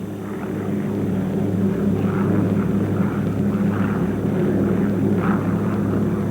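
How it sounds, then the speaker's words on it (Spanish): Petlyakov Pe-2 bomber propeller engines drone steadily and loudly, a deep, throbbing hum that holds constant throughout with no voices. "Bombarderos ligeros, como estos Petliakovs PE-2S, también muy efectivos como atacantes nocturnos"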